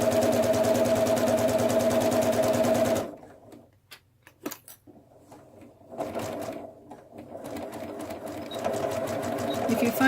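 A sewing machine with a walking foot stitches fabric for a bunny gift bag in rapid, steady bursts, stopping for a few seconds of handling noises before starting up again and running continuously.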